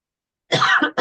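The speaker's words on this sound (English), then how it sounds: "I'm coughing from my fake cigarette" Two harsh coughs from an adult after inhaling from a fake cigarette, close and loud, a longer hacking burst followed quickly by a shorter one.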